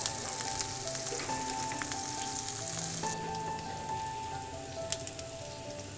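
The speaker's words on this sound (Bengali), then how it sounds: "কাঁচামরিচ এবং পেঁয়াজ দিয়ে দেব এবং এটা হালকা লাল হওয়া পর্যন্ত অপেক্ষা করব।" Green chillies and onions fry in oil over medium-high heat, giving a steady, close sizzle with faint crackles and no talk.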